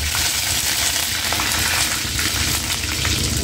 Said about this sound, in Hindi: तेल गर्म हो चुका है, अभी इसमें राई और हींग डालेंगे।